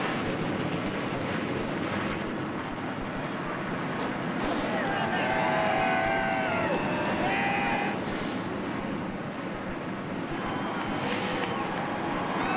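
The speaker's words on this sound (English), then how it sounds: "Well, the engines have fired" A field of NASCAR stock cars runs with engines just started before the 2007 Camping World 200, a continuous broad rumble that swells slightly midway, mixed with indistinct voices.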